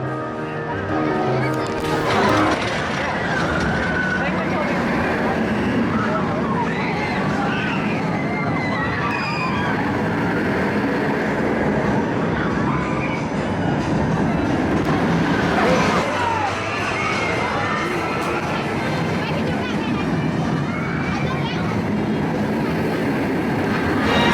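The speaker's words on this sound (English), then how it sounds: "The mine train is operational." The mine train roller coaster at Six Flags St. Louis rumbles and clatters along its track steadily, with crowd chatter and voices mixed in throughout.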